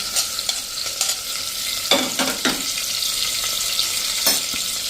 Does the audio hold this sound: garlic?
yes